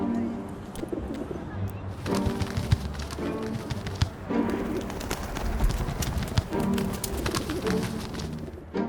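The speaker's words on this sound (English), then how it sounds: "Pigeons are everywhere." Pigeons coo in a city setting, low rounded calls repeating in pulses over a busy background of street noise and rustling, with a voice speaking at times.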